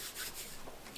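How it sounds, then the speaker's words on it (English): A 3M sanding sponge scuffs a surface by hand in painting prep work, with short soft rubbing strokes, close and fairly quiet, alone without talk. "pick up a pack of these and Get a bunch of them. use them for sanding."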